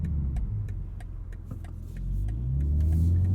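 A 2021 BMW M3 Competition heard from inside while driving: a low, steady engine drone that swells louder toward the end, with faint regular ticking over it.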